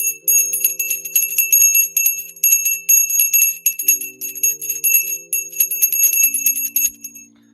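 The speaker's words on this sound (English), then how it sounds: "So there's the opening bell." A stock market opening bell rings continuously, bright and metallic with steady repeated strikes, loud and alone for several seconds.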